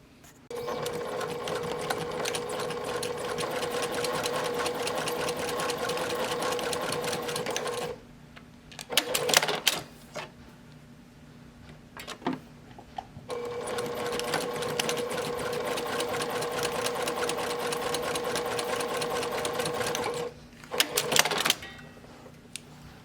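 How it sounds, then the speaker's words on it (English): A sewing machine runs in two long, steady bursts of rapid stitching, separated by a pause filled with clunks and handling noises. "let's go to the sewing machine"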